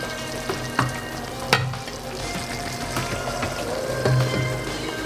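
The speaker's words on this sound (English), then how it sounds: "So we're gonna let it simmer for about 20 minutes." Chicken adobo bubbling and sizzling steadily in a pan, with several sharp utensil knocks and scrapes cutting through the continuous loud frying hiss.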